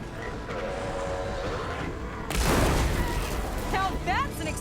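A loud explosion bursts out in the video game Horizon Forbidden West, a sudden broadband boom with a rumbling tail, followed by short whooshing synthetic game effects.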